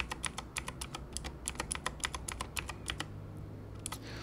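Quick, uneven keystrokes on a computer keyboard, used to toggle DIP switches in a browser-based digital circuit simulator, clatter close and clear for about three seconds and then stop, leaving quiet room tone.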